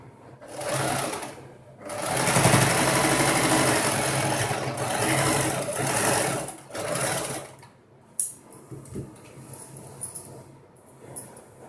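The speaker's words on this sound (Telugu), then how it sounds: "ఇలా పెట్టేసి ఈ నడుము దగ్గర స్టిచ్ చేసేస్తున్నాను." Sewing machine stitching along the waist of a free-size maxi dress, running in loud continuous bursts of steady whirring with brief pauses, then slowing into scattered clicks and short runs near the end.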